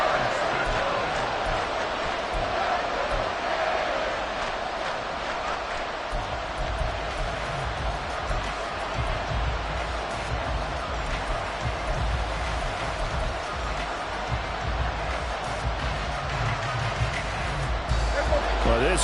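A packed football stadium crowd during a Dallas Cowboys game keeps up a loud, steady roar that holds throughout without a break.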